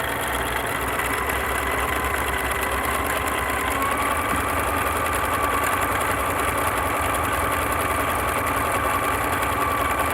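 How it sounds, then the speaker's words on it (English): Sewing machine running continuously as it satin stitches over a fabric edge, a steady mechanical whir and rapid needle clatter held at an even pace throughout, close and loud with no talk. "this is just going to stitch over the edge"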